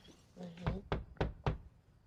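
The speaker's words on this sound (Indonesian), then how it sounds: "Seketika ada seorang yang mengetuk pintu mereka." Someone knocks on a door in a film, four firm evenly spaced raps after a brief murmur of voices, close and distinct.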